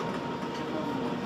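Steady rumble of a nearly empty moving train, broadband rolling noise with a faint tonal hum and no voices, even and continuous throughout.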